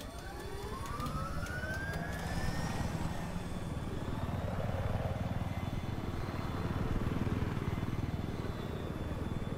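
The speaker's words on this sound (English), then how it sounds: "Then hop back in your attack heli and point the nose at anything." An attack helicopter in Battlefield 4 roars continuously with a loud whining turbine and a dense rotor drone, with a falling electronic tone near the start.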